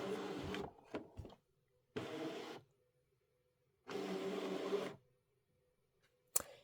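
An embroidery machine loads a hooped mat for scanning, giving several separate bursts of motorized whirring with quiet gaps between them, close and moderate in level, then a sharp click at the end.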